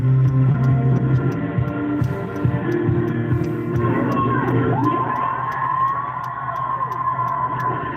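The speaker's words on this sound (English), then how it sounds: "What you're hearing there are thousands of people cheering." Thousands of people lined up for Taylor Swift merchandise in downtown Vancouver cheer as a large, continuous crowd, with a rising and falling siren-like wail carrying through the din, the noise steady and loud throughout.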